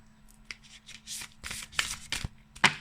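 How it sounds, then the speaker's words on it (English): Oracle cards from a Kali Oracle deck being shuffled by hand in quick riffling bursts, a series of papery flutters and snaps, close up with no talking. "Let me just pause it while I shuffle."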